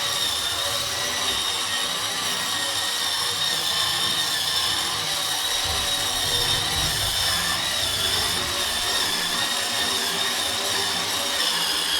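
An electric rechargeable spin scrubber runs on high speed at about 90% power with a bristle brush, giving a continuous, even motor whine with grinding scrub noise throughout, close and steady with no talk.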